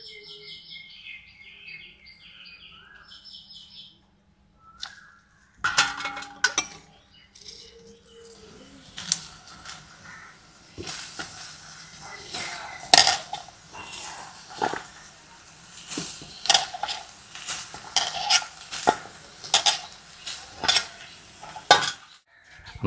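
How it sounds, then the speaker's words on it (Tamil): Fish frying in a pan in a village kitchen, with scraping and clinking utensil stirs and a soft sizzle building after birdsong at the start; irregular close strokes continue to the end. "நல்லா மீன் வறுக்கிற"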